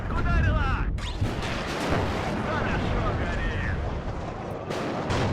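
Tank cannon fire during an armored engagement in the WARNO strategy game: heavy booming shots and rumbling blasts over a dense battle din, with voices talking throughout.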